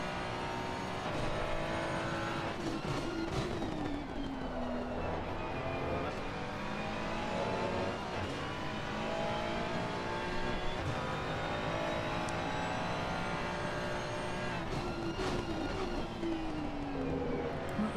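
A Ferrari 296 engine revs steadily through a series of early gear shifts, the pitch climbing and then dropping at each change, loud and continuous with no voices.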